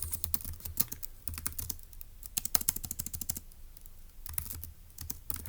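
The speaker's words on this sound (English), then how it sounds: "let's go ahead and type that up in our notes" Quick bursts of keystrokes clatter on a computer keyboard as notes are typed up, the clicks close and fairly quiet, coming in uneven runs with short gaps.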